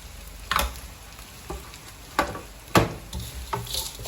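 Fried garlic and fried shallots are stir-fried in a pan for nam prik kak moo, with a low frying sizzle broken by a few sharp scraping and stirring knocks, close by and without talking.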